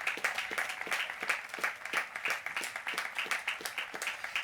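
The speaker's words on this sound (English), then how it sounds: "Friends, please give a big round of applause to all of our graduates from Roberts House" Steady applause for graduates at a Class of 2020 graduation ceremony, dense rhythmic clapping from a crowd carrying on evenly throughout without pause.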